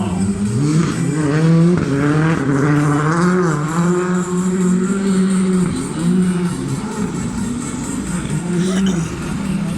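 Rally cars racing on the citadel esplanade circuit at the Rallye de Wallonie, a close engine revving and wavering through shifts, with a commentator talking over it throughout.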